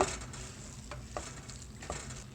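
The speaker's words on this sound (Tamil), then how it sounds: "நல்லா ஒரு தடவை கிளறி விட்டுக்கோங்க" A spoon stirs red lentil curry (Ethiopian misir, masoor dal) in a pot, giving a few soft scraping strokes over a quiet bubbling simmer, with no voices.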